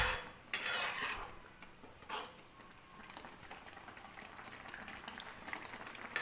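Sakhar amba, a sweet mango preserve, cooking in a pan on the stove, with a utensil clinking and scraping against the metal as it is stirred, under a soft steady simmer and no talking.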